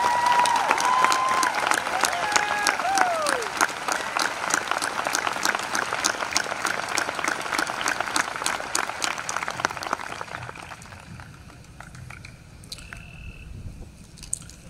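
Large crowd applauding for school staff at a North Paulding High School graduation ceremony in 2021, steady dense clapping with a few cheers that fades out into scattered claps.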